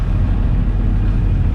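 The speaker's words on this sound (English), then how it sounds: "even though I had the engine running in low RPMs" A sailboat's engine runs at low RPM while cruising the Swedish archipelago, a loud, close, continuous droning rumble with no break and no voices.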